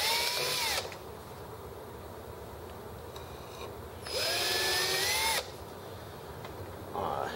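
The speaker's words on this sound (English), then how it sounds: "hold it here and drill these other holes for this engine" A power drill whirs in two long bursts while drilling screw holes in an engine mounting bar, pitch rising as each starts, separated by quieter pauses with a brief third burst at the end.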